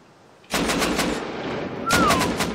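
Rapid bursts of automatic gunfire in the survival video game Rust, loud and close, one volley followed by another after a short pause, with a faint whistling tone over the second burst.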